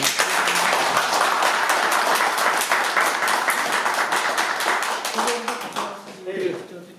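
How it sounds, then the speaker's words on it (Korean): Applause from the audience at a Korean political event where a former council chairman declares support for a Pocheon mayoral candidate, a dense, steady wash of clapping lasting several seconds and tapering near the end. "큰 박수 부탁드립니다"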